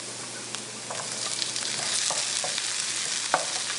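Cherry tomatoes hitting a hot frying pan for a springtime tortellini dish, giving a steady sizzle with light clicks and scrapes as they settle and are stirred, with no voices.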